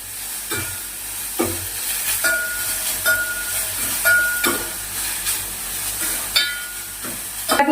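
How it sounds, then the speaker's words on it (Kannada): Grated carrot frying in a pan on medium flame for a Brahmin-style carrot payasa gives a soft steady sizzle, broken by repeated scraping and clinking stirs at an irregular pace. "ಇದನ್ನ ಮೀಡಿಯಮ್ ಉರಿಯಲ್ಲಿ ಚೆನ್ನಾಗಿ ಹುರ್ಕೋಬೇಕು."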